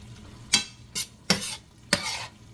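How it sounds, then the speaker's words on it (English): Taco filling is stirred in a hot pan: four distinct, fairly close scraping strokes sweep through the sizzling mixture at a steady, unhurried rhythm. "so now we're just gonna stir this in"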